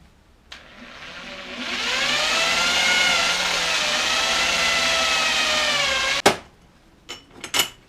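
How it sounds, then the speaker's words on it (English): A power tool cuts holes in metal spacers meant for brake bolts. It whines steadily for about six seconds, then stops abruptly, and a few sharp metallic knocks and clatters follow close by. "So I'm going to cut a series of holes now in these so that the new bolts can go through them."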